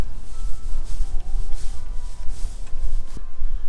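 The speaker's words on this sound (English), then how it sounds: "if you just keep rubbing this like this with the broom, just kind of rub the sand down in" A broom rubs sand into a floor, making a steady gritty scrubbing with rhythmic back-and-forth strokes, close and fairly loud, with no voices.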